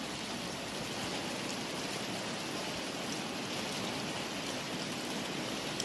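Steady rain falls outdoors on a gloomy afternoon, a dense, even hiss of drops with no breaks, moderately faint and unaccompanied by talk.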